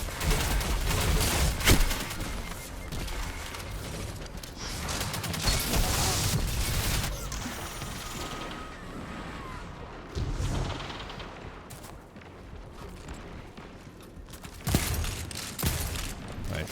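Gunfire in the shooter Destiny 2, including shotguns, comes as dense overlapping volleys and bursts, loud and busy for most of the stretch, with a brief lull and a renewed burst near the end.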